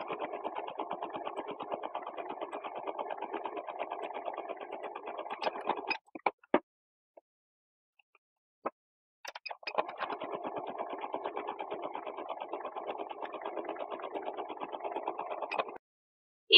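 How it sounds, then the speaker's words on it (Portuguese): A sewing machine stitches a folded hem in fabric, running in two steady bursts of rapid mechanical buzzing, with a quiet pause and a few faint clicks between them, close and alone. "Vai na máquina e passa uma costurinha"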